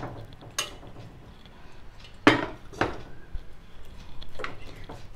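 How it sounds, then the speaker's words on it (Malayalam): Food cooked with salt and turmeric in a pressure cooker is moved into another vessel in a home kitchen. Scattered metal clinks and scrapes ring out, with two sharper clatters near the middle, over a quiet background. "അത് നമുക്കൊരു പാത്രത്തിലോട്ട് മാറ്റാം."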